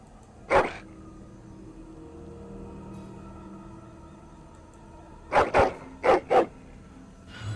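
A dog in the Dragon Age Origins: Witch Hunt video game barks sharply and close: one bark, a long quiet gap over a faint hum, then four quick barks in two pairs.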